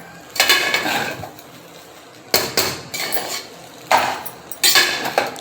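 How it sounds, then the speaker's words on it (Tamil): Egg rice with chicken masala being stirred in a pan, giving bursts of metal utensil scraping and clinking against the pan in three clusters separated by short pauses, close and moderately loud with no talking. "இப்போ நல்லா கிளறி விட்டுக்கலாம்."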